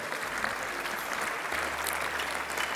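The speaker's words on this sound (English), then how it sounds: "Let's recognize them with a big round of applause." Applause from a crowd at a formal award dinner, a dense steady wash of clapping that holds at an even level throughout, fairly distant in a large hall.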